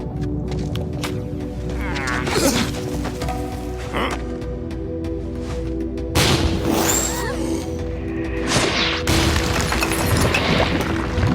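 Cartoon cannon fire erupting in sharp booms and crashing blasts amid a chaotic action scene, loud bursts spaced a few seconds apart with shouting voices mixed throughout.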